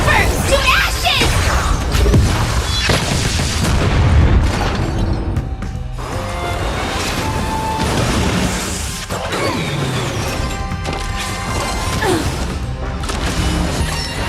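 Detonation in Honkai Star Rail, a dramatic in-game explosion sequence with crashing, booming impacts and mechanical clatter layered over music and effects, loud throughout with a few brief dips.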